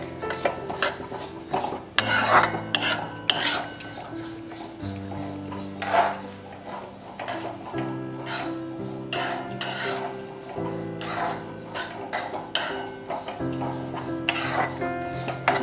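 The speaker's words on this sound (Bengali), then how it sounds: "দেখে নেবে কতটা মুগ ডালটা ভাজা হচ্ছে" Moong dal roasts dry in a pan while a utensil scrapes and knocks against the metal in quick repeated strokes, close and fairly loud, with a faint sizzle underneath.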